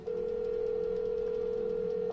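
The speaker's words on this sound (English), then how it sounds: "To use the phone now." A telephone dial tone from The Assembly video game on PlayStation 4 VR holds one steady, unbroken pitch for about two seconds, clear and alone.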